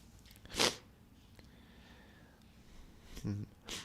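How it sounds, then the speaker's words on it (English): A few short, harsh coughs: one sharp burst early, then two more close together near the end, with quiet room tone in between. "difficult to focus with this cough"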